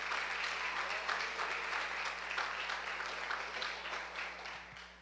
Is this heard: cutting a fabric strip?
no